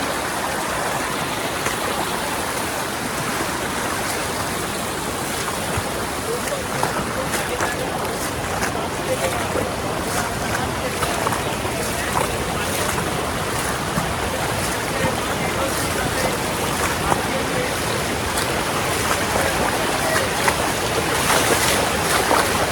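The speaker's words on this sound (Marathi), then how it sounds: "पाण्याचा ना फ्लो जास्त आहे, पाऊस खूप पडला ना त्यामुळे" Loud, steady rushing water of a rain-swollen waterfall roars continuously and close by, filling the whole scene with dense white noise.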